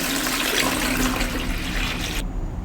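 Starchy water drained from cooked rice pours steadily into a large vessel, a close continuous splashing gush that cuts off abruptly near the end.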